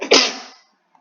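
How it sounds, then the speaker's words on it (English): A single close, sharp sneeze bursts out loud and breathy, then trails off quickly into silence. "I got a little sneeze there."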